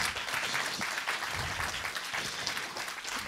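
Audience applause in a film festival screening hall welcoming the director, thick continuous clapping from a seated crowd, even and loud throughout.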